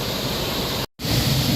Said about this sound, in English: There's a lot of water rushing through there.